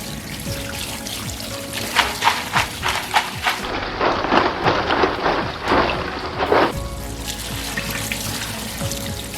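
Cut crab pieces are rinsed in fresh water. Running water splashes and pours steadily nearby, rising into a burst of rinsing and sloshing in the middle before settling back to a flowing trickle.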